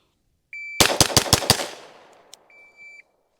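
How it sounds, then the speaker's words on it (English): A shot timer beeps once, then a Staccato HD P4 pistol fires five rapid, loud shots in quick succession. The reverberating echo fades before two more short timer beeps. "I'm going to set my shot timer off. I'm going to get 4 shots off as fast as I can."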